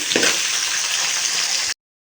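Steady, loud sizzling of chopped onions and garlic sautéing in a hot pan, with a brief stir near the start, cutting off abruptly.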